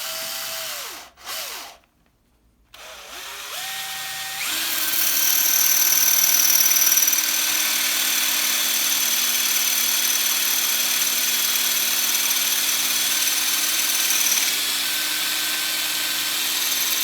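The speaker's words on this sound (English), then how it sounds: "the tip of the drill bit, centre of the X, and start slowly." A power drill starts up and then runs steadily into ceramic tile, a loud, even grinding whir that holds for many seconds after a few brief spin-ups at the start.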